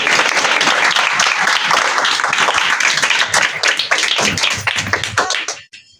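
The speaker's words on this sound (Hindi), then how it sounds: "शुक्रगुजारी के लिए तालियां बजा सकते हैं" A church congregation claps in thanks during a Christmas sermon, a loud, dense burst of hand claps that carries on steadily for over five seconds before stopping abruptly.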